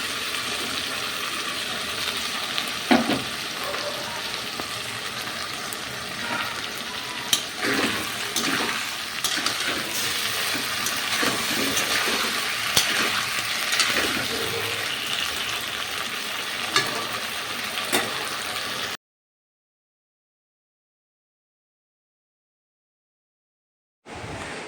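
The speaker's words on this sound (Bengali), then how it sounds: "তো তোমরা দেখতেই পাচ্ছ যে মশলাটা আমি ভালো করে কষিয়ে নিচ্ছি।" A masala of tomato, cumin and green chilli fries hard in a pan, a steady loud sizzle with scraping stirs for about nineteen seconds before it cuts to silence, then returns briefly at the end.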